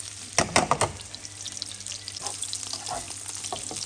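Lardons and bacon sizzle in oil in a pan, with a burst of crackling spits and stirring clatter early on, then a softer steady fizz with scattered pops.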